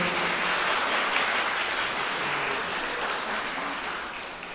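Wedding guests applaud in a convention hall right after the couple is declared married, a broad, continuous wash of clapping from many people that slowly fades toward the end.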